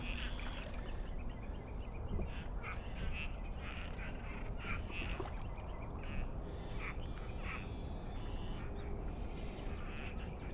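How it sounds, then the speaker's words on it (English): Frogs call from the grass around a pond shoreline with lily pads and cattails during mating season, a dense continuous chorus of croaks and chirps at moderate distance, faint overall. "You can hear the frogs that jumped up, and they're up in the grass up on top."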